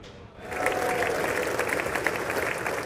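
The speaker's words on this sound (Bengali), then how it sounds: "তুমুল করতালি ও হর্ষধ্বনির মধ্য দিয়ে কংগ্রেসের যৌথ অধিবেশনে যোগ দেন মার্কিন প্রেসিডেন্ট ডোনাল্ড ট্রাম্প।" Sustained, dense applause and cheering from a large crowd at a US Congress joint session welcoming President Donald Trump, rising after a brief quieter start and holding steady and loud throughout.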